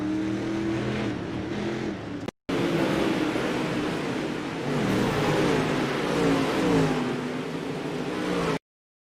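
A late model race car in the iRacing game at Eldora revs and accelerates around the track, its engine note rising and falling loudly for several seconds, cut by a brief gap of silence.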